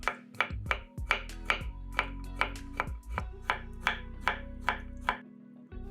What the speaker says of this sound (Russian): 2 соленых огурца нарезаем сначала пластинками, а затем кубиками